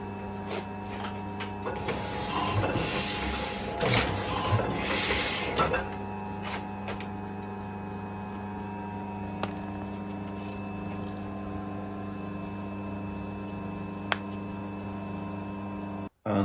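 A die cutting press machine stamps shaped swing tags out of card, its mechanical clatter and rubbing strongest over the first few seconds, then settling into a steady motor hum with scattered faint knocks.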